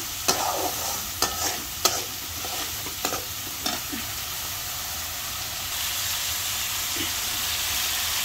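Shrimp being stir-fried in a pan hiss steadily and close by, with a series of sharp spatula scrapes and knocks against the pan at irregular intervals in the first half.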